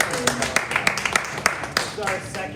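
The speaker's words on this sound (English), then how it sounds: "everyone give yourselves a round of applause" A reception crowd at a charity walk research event gives itself a round of applause, scattered sharp claps over a murmur of voices, brief and moderately loud.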